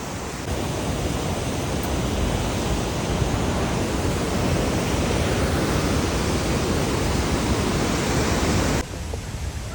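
Attukad waterfalls in Munnar roaring loudly and steadily, a dense, unbroken rush of falling water close by that fills the whole stretch before cutting off abruptly near the end.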